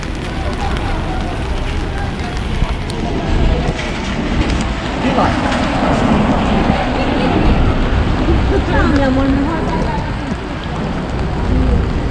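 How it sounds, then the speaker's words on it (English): Steady rain falls on a Chinatown street in New York City, a dense continuous hiss with faint street noise mixed in and no talk. "Rainy day in Chinatown."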